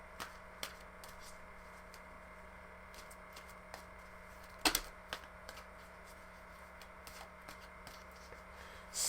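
A deck of tarot love cards shuffled quietly with light ticking flicks over a steady low background hum, soft and close, no talk.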